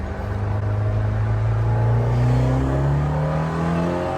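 Modified Peugeot 106 engine revving hard, a deep throaty roar rising and falling in pitch over a few seconds, loud and close with no voices.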